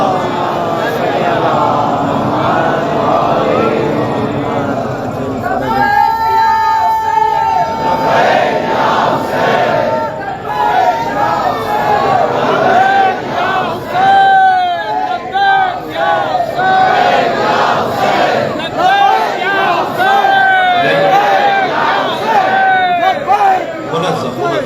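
Large religious gathering loudly chanting salawat together in response, a dense wall of voices with rising shouted calls, sustained and near.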